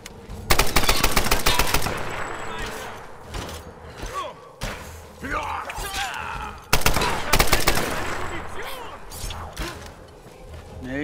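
Video game machine gun fire in Tomb Raider, loud rapid bursts of automatic shots in several volleys with mechanical clanks and thuds between them.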